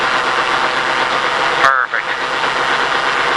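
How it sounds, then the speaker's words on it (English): A stock race car engine idles steadily and loud throughout at a driving-experience track, a continuous rumble with a brief dip near the middle as a voice speaks a single word over it. "I am going to start the engine just to get some temperature in the engine"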